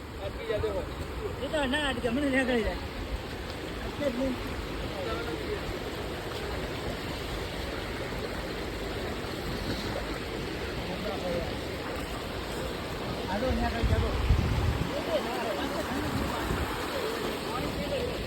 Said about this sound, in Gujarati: જોરદાર નદી ચાલી રહી છે